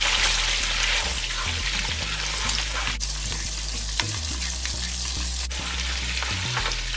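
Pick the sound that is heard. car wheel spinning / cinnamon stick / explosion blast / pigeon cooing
cinnamon stick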